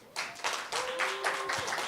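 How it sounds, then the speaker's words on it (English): Audience members clap at an interior design awards finale, honouring the tech team; a short, close burst of clapping that builds after a brief pause, with a faint tone running under it. "So can we have a round of applause for our tech team?"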